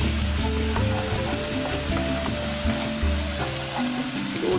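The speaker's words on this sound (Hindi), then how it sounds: "टमाटर भी हमने ऐड कर दिए हैं इसमें।" Chopped tomatoes frying in a pan for a chana dal with spinach, giving a steady, close sizzle with stirring scrapes throughout and no talk.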